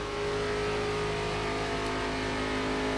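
ARCA stock car engine in iRacing at Indianapolis Motor Speedway, a steady loud sustained drone under throttle with strong harmonic tones, continuous and close with no talk.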